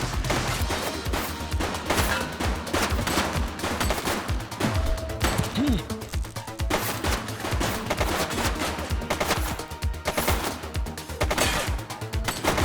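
Heavy gunfire in the video game The Precinct, a police shootout with sustained rapid automatic bursts and single shots, loud and dense throughout with brief pauses between volleys.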